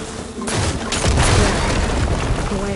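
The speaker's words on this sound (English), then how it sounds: "Hitting those blaze barrels with fire ammo should do the trick." Blaze barrels struck with fire ammo burst in Horizon Forbidden West, giving a loud booming explosion followed by a rolling crackling rumble of fire and debris that stays dense and close for the rest of the moment.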